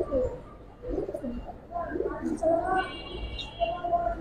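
Giribaz pigeons at a dealer's in Old Dhaka coo repeatedly in soft, low, rolling calls, close by, with faint background murmur.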